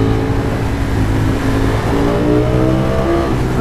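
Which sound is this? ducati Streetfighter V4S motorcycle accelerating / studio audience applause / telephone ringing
ducati Streetfighter V4S motorcycle accelerating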